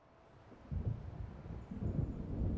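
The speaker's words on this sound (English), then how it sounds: "It seems there's a storm coming." Low thunder rolls through a stormy scene in the Alan Wake video game. A deep rumble builds in two heavy swells with no speech over it.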